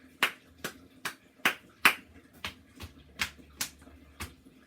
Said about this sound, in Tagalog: Ngayon naman ay bibigyan din natin ng 5 palakpak at 5 padyak ang pangkat